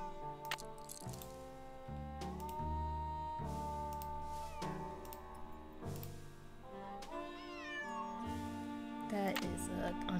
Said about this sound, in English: That is an unfortunate looking cat.